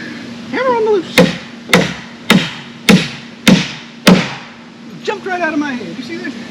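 A hammer strikes wooden boards during wall framing, six sharp, evenly spaced blows ringing out close by, with voices talking before and after the strikes.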